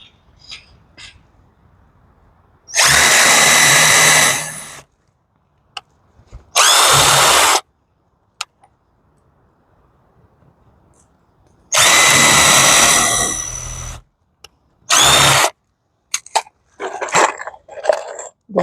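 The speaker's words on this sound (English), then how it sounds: "The first thing I'm going to do is drill a hole." Two long bursts of a loud power drill whirring close by, separated by quieter pauses, followed by brief scattered clicks and rattles.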